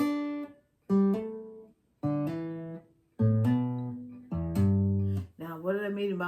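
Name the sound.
guitar blues pattern played with hammer-ons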